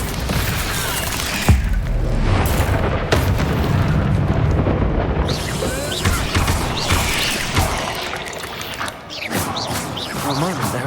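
Bombarda blasting spells detonate in the video game Hogwarts Legacy, loud booming explosions with crashing debris over dense game noise, repeated bursts across the stretch, with a voice speaking briefly.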